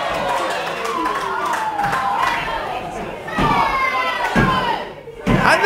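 A wrestler crashes down with a Swanton bomb at a live WrestleForce show in Woodham Ferrers, a heavy thud in the ring landing amid a noisy crowd of cheering, shouting and clapping, with voices over the din.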